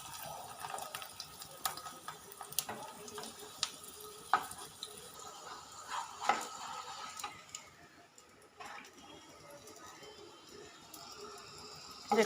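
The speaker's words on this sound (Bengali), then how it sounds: "আমি প্রথমে মিষ্টি পরোটাগুলো ভেজে নিচ্ছি।" Sweet coconut-filled paratha frying in a pan for breakfast gives a soft, steady sizzle with occasional sharp pops and crackles, close by and fairly quiet, with no talking.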